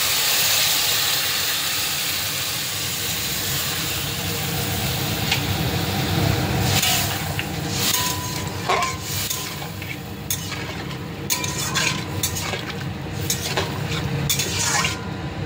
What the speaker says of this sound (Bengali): খুব সুন্দর করে কষে গেছে, জল দিয়ে দিই। গরম জল করতে থেকে দিয়ে দিলাম।